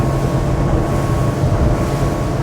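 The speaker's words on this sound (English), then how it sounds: "I'm just going to wind it right up to full speed, and then we'll come back through the rev range." A 2020 Axopar 28 T-top BRABUS Edition boat runs with its engine pushed toward full speed, a steady loud roar mixed with rushing water and wind buffeting, no talking.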